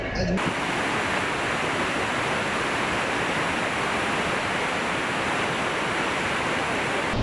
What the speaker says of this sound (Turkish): Dünyanın en büyük şelalesi Brezilya'da Iguazu Şelalesi'nde çekimlere devam